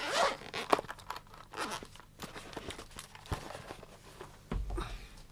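A zipper on the hard case of a Shure microphone is pulled open with a few quick rasping strokes, then the case rustles and knocks softly. It is close and quiet, with no talk.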